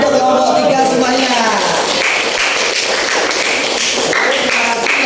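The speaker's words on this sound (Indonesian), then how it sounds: "beri tepuk tangan untuk kelompok 3 semuanya" Audience applause and tapping for a presenting group in a classroom session, a dense steady patter of claps filling the whole stretch while a voice speaks over the start.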